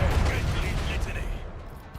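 Heavy booming cannon fire from starship macro cannons in Warhammer 40000: Rogue Trader, a dense low rumbling barrage that rolls continuously and fades toward the end, loud and close.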